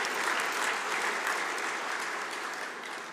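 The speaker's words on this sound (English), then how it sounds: "So if you could just show a round of applause for their support for our sector." An audience at a New Zealand horticulture industry awards gala dinner applauds in a dense, steady wash of clapping that holds throughout and eases off slightly toward the end.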